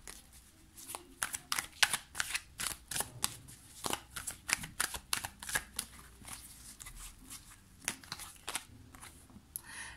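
Playing cards shuffled and drawn for a tarot-style love reading: a close, crisp run of riffling snaps and soft slaps, in quick irregular bursts throughout, with no talking.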